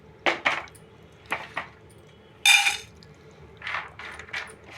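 Dry fruits and seeds (pumpkin seeds, sunflower seeds, almonds, cashews, figs, pistachios) roasted in a pan for laddu: several bursts of clinking and scraping against metal cookware, with one louder rattling sweep and quiet gaps between.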